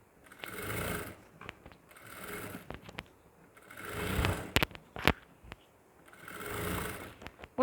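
A sewing machine stitches a blouse in four short bursts of rapid mechanical whirring, separated by pauses filled with clicks and handling noises, close and clear.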